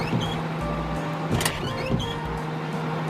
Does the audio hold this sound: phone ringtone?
no